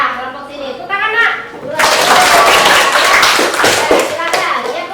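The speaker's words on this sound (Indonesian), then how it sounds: "Tepuk tangan, Nak." Children in a classroom break into a burst of hand clapping that swells in quickly after a few seconds of voices, a dense patter of claps with talk still mixed in.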